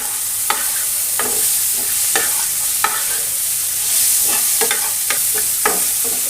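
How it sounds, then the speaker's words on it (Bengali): Chopped garlic sizzles in a hot pan with a loud, constant close-up hiss, punctuated by a series of sharp spatula stirs and scrapes. "দিয়ে দিচ্ছি 1 কোয়া রসুন কুচি"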